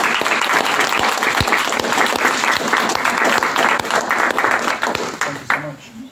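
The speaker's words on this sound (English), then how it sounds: "shall we give Manos a round of applause?" An audience at a lecture on Odysseus and heroism gives the speaker Manos a loud, continuous round of applause, dense clapping that runs steadily before thinning slightly at the end.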